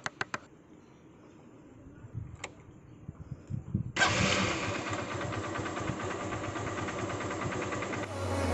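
A Honda Unicorn motorcycle starts after a few clicks and sputtering cranks, then catches about halfway and settles into a steady, close, loud idle that continues to the end.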